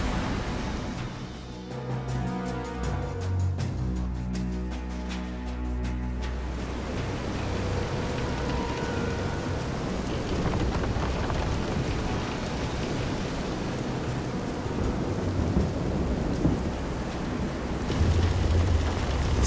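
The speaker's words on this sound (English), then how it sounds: "This is some storm." In the Visions of Mana video game, a storm at sea roars with dense, heavy rain and rumbling thunder, a loud unbroken wash of noise with deep booming swells throughout.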